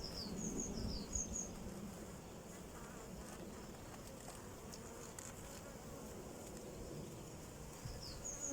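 Honeybees buzz around a beehive in a soft, continuous hum heard close but quietly, with faint high bird chirps drifting in at moments and no voices.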